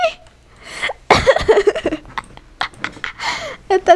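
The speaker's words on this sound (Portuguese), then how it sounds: "Eu tô tossindo e dando risada ao mesmo tempo." A person coughs and laughs at the same time during a Roblox Murder Mystery 2 game session, a run of sharp, close, irregular bursts of coughing mixed with giggling breaths.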